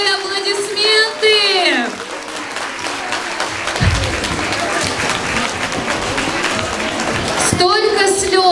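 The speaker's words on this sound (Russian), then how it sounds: "Четвертый Д, аплодисменты!" A primary-school graduation audience for class 4D breaks into sustained, dense clapping that fills the middle of the clip. Someone speaks just before it starts and talk resumes as the applause fades at the end.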